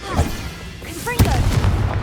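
Confringo fire spell blasts in Hogwarts Legacy, a couple of sharp booming bursts with crackling tails, close and loud, mixed with a character's voice and game effects.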